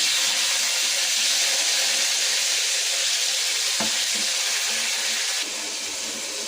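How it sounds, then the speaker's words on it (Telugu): Tomatoes and green chillies sizzle loudly in a frying pan, giving a dense, steady hiss and crackle that carries on without a break from start to finish. "పచ్చిమిరపకాయలు వేస్తున్నా. టమాటాలు వేస్తున్నా."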